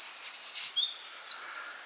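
Birds in a food-forest garden with cherry trees chirp and tweet in high, rapid trills and short sweeping calls, continuous and fairly close, with no voices over them.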